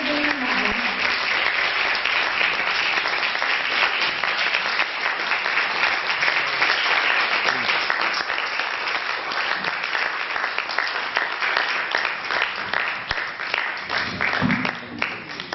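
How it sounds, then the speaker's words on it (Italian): Sustained audience applause fills the hall at an international violin competition award ceremony, a dense, steady roar of many hands clapping at near-constant loudness throughout, with no speech over it. "A warm applause, un grande applauso di incoraggiamento per la nostra istituzione."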